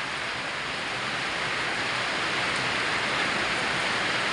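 A downpour of heavy rain roars on steadily, a thick even wash of falling water close around, loud and uninterrupted with no voices.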